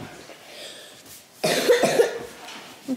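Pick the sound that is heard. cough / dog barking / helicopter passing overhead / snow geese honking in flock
cough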